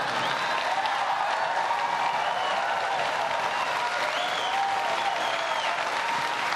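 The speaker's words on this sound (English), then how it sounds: "that gets a lot of applause here" At a political campaign event, an audience breaks into continuous applause, a broad wash of clapping from a large crowd that stays even from start to finish, with no voices on top.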